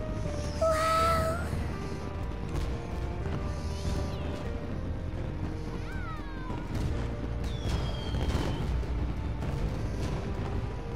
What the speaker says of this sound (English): Saw fireworks from that close up before.